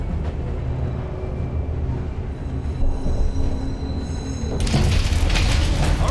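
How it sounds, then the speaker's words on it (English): A train in the video game Call of Duty Black Ops Cold War rumbles and slows, with wheels squealing and metallic clanks over a loud, steady roar that builds to a harsher burst near the end. "Train's slowing down."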